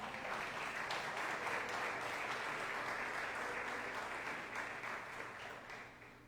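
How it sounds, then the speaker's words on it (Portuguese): A church congregation claps together in sustained, dense applause, fairly loud and steady, gradually easing off toward the end. "Você pode aplaudir o Senhor, amém?"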